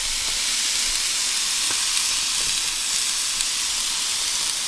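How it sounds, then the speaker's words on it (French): A braided pork fillet sears on a hot barbecue grill, giving a loud, steady, close sizzle with a constant hiss throughout and no talking. "Là, je vais la saisir."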